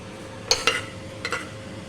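Mustard seasoning pops and splutters in hot oil for palak rice, with two quick sharp crackles followed by a softer pair a moment later, close and clear over a quiet kitchen background.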